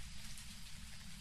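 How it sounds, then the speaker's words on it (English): Steady, dense rain hiss fills the scene evenly from start to finish, a heavy downpour pattering on surfaces with no other sounds standing out. "Heavy rain, by the way."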